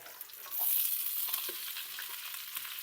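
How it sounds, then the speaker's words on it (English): Onions sizzle as they drop into mostly melted pork fat for a Hungarian pork stew, a soft steady frying hiss that swells after a moment and carries on evenly and fairly quietly. "So once your fat is liquefied mostly, and you put your onions in there"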